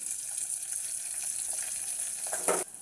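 Mustard seeds, cumin and green chilies sizzle in hot oil in a pan, giving a steady bright hiss with small crackles and a louder burst of sizzling just before it stops abruptly. No one speaks.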